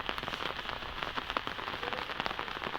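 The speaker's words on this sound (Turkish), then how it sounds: "Anam yağmur yeniden geldi." Sudden rain pattering onto outdoor surfaces near a garden, a dense steady spray of drops with scattered sharper ticks, fairly close and soft, with no talk.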